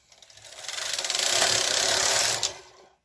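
A KH 230 knitting machine carriage sweeps across the bed while knitting a row, a rising mechanical whirring rush that swells, holds steady for about a second, then tails off, alone and fairly close.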